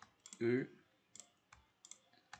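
A computer mouse clicks while the Ctrl key is held in video editing software: a short burst of voice, then several sharp, isolated clicks spaced irregularly, near and fairly quiet.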